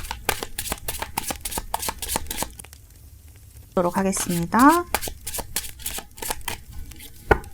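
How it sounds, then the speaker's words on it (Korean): Tarot cards are shuffled by hand in a steady run of crisp, close flicking riffles, with someone speaking briefly partway through. "잘 섞고 카드를 뽑아보도록 하겠습니다."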